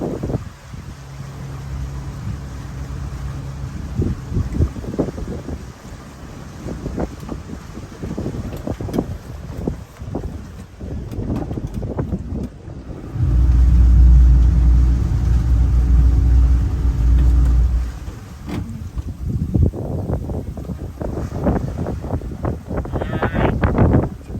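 Engine rumble and wind noise from a motorboat in Porpoise Bay, Hernando Beach, with a deep steady drone swelling in the middle as the boat swings around, then easing.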